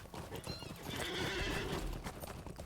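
Hoofbeats clip-clop steadily from a horse in the online game LOTRO, with a whinny rising over the trotting around the middle, all fairly loud and continuous without talk.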